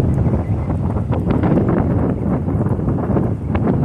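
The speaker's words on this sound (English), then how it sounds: "it's just windy all the time on here" Strong wind blows across a campsite near El Paso, buffeting the microphone in a loud, continuous low roar with gusty surges throughout and no voices.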